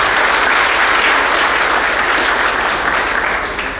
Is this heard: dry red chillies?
no